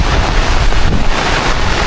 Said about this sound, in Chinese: 这个风很大的